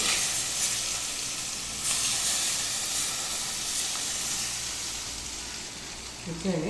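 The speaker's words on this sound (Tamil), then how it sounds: "இதுக்கப்புறம் அடுப்பு ஆஃப் பண்ணிவிட்டு அந்த லெமனில் நம்ம இந்த எண்ணெயை ஊற்றிடலாம்" Hot oil poured over cut lemons for a Tamil-style lemon pickle, giving a loud, steady broadband sizzle and hiss that holds for several seconds and swells briefly near the end.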